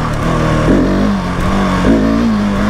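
2020 Husqvarna 701 SM single-cylinder motorcycle with a fuel dongle accelerating hard in first gear: a loud, close engine roar rising in pitch, briefly dipping and surging again.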